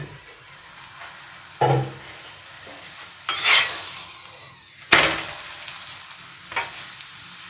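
A cauliflower paratha fries in white oil over medium heat, a soft continuous sizzle broken by several sharp bursts of louder hissing and spattering as it is moved or turned in the pan, close up.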